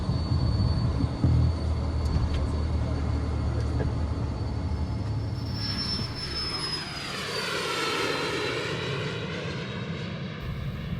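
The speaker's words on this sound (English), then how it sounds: "Flight attendants, please prepare for takeoff." An airliner taking off: a loud, steady jet engine roar that builds and rises in pitch as the aircraft powers up, continuous throughout with no talking.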